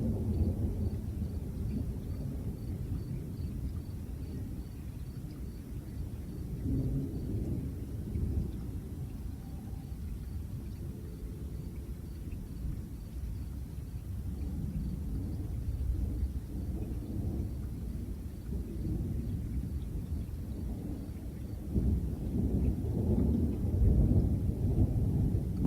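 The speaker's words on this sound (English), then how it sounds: "He said there was a tornado as well as tremendous lightning" Thunder rolls in long, deep rumbles during a stormy night near Islip, New York, swelling and fading over a constant low roar of wind and rain, growing louder toward the end, with no talking.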